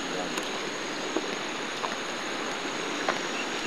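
A shallow creek flows steadily with a broadband rushing wash and occasional small splashes, its constant murmur filling the whole stretch without pause; faint voices may sit low beneath the water.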